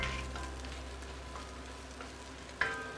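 Prawn shells saute in a cast iron pot, giving a steady low sizzle and crackle with a faint scrape or clink near the end, close and soft, no voices.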